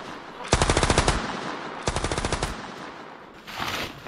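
Two rapid bursts of automatic gunfire rattle over a constant noisy background, followed by a fainter third burst, game-style and close.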